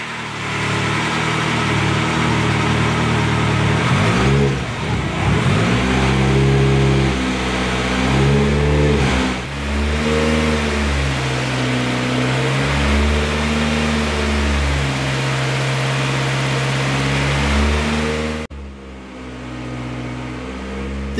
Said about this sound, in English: This is genuinely the first time we've run the engine with its full custom-made stainless steel exhaust on.